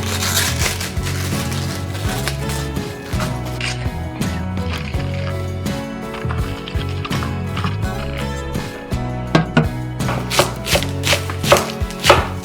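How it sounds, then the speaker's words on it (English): Knife chopping cabbage on a cutting board: rapid, steady rhythmic chops, close and loud, continuing throughout with a few sharper knocks near the end. "We finished cutting the cabbage."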